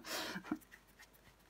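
A dog panting: a quick burst of close, breathy rhythmic pants at the start, fading into quieter breaths and faint background sounds.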